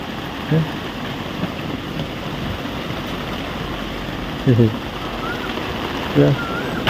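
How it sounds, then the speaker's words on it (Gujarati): A sudden rain shower in a Botad village makes a steady, even hiss, with a few short voice-like bursts breaking through now and then. "અચાનક છે ને જો વરસાદ ચાલુ થઈ ગયો"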